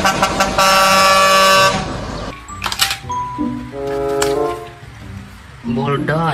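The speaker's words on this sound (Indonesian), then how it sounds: "Wadidaw, truk kontainer." A container truck sounds a loud, sustained air horn, then several shorter blasts, with engine rumble and people talking nearby.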